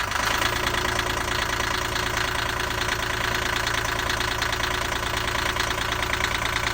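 A boat engine idles on a test run after a raw water pump repair, running a bit high with a steady, even mechanical drone and rapid regular knocking throughout, no talk.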